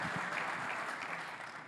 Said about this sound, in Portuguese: vamos dar uma salva de palmas a Jesus pela vida do seu André.